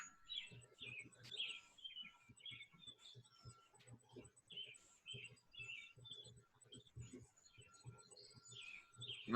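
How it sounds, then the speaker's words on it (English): Birds chirp outdoors in scattered short calls, faint and somewhat distant, over low background rumble. "the birds are chirping away here."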